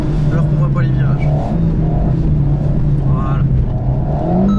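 An Alpine A110 S engine drones and revs continuously while the car drifts on ice, a steady mid-pitched hum rising and falling slightly, heard from inside the cabin.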